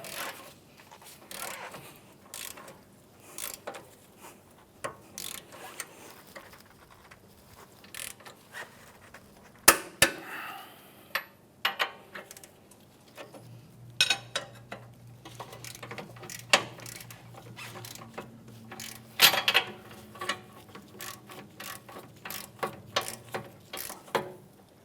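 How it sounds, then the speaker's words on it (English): A torque wrench ratchets down the strut bolts on an Acura MDX, with quiet, uneven bursts of clicking and metallic ticks, some pauses, and a low hum partway through, no talk. "I'm going to use a 24 millimeter wrench on one side, torque wrench on the other with a 24 millimeter."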